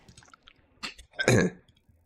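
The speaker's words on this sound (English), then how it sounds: "1 second, I just gotta clear my throat." A single throat clearing during a live game-preview stream: a short rasp, then a louder, fuller burst of about a quarter second, close and alone with no talk.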